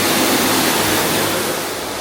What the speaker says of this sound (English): You're literally walking through the water.